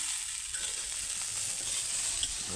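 Quiet, even sizzling of carrots frying in a pan, a soft continuous hiss with faint crackle throughout.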